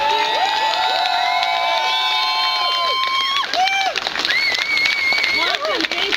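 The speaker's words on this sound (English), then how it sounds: "Can we have a huge round of applause for all of the work that just took place here?" A meeting audience cheers loudly with whoops, whistles and shouted voices over a background of clapping that carries on throughout.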